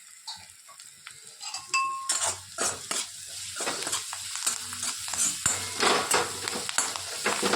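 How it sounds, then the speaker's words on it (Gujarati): Chillies and onions roast in a pan outdoors, sizzling and spitting close by while a utensil stirs and scrapes against the metal in irregular bursts, building louder toward the end. "મરચાં અને ડુંગળી થોડોક શેકાઈ જાય એટલે અંદર ટામેટાં નાખી દીધું."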